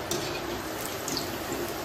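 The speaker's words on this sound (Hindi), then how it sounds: "जल गेल इसे झरना कहते हैं" Continuous rushing of a waterfall with flowing water, a steady, fairly faint hiss and splash heard alone without speech.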